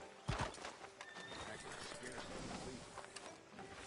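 Horse hooves clip-clop faintly in Red Dead Redemption 2 beneath a steady hum of game sound and some mechanical clicks, with speech present.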